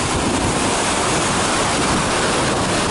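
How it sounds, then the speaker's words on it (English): Steady, loud rushing water roars without a break, a dense broadband wash from a nearby waterfall near Muir Pass in the Sierra Nevada, pouring continuously. "The waterfalls are awesome out here."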